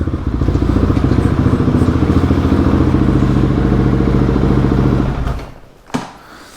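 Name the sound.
motorcycle engine running, changing to the other motorcycle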